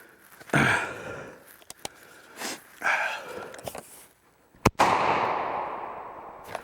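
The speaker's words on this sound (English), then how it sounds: "I'm gonna go ahead and shoot now at this five yard target here" A Langdon Tactical home defense shotgun fires at a target five yards away. One sharp, loud blast rings out with a lingering tail, after some nearby handling noises and rustling.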